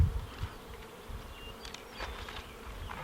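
Honeybees buzzing around hive boxes, a faint, steady insect hum with individual bees droning past close by, no voices.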